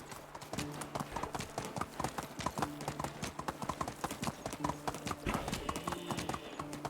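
A horse galloping in Medieval Dynasty, steady rhythmic hoofbeats pounding close and clear throughout, with a faint ambient wash beneath.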